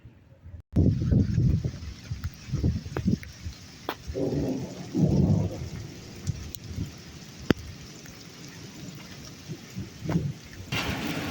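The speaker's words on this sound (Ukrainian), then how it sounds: "показую вам, який іде рясний дощ. грім гримить." Heavy rain pours steadily during a thunderstorm, with several rumbling thunder bursts, some near and loud, rising and fading over a broad hiss of falling water, with no talk.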